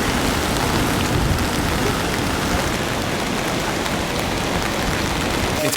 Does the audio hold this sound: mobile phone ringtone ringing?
no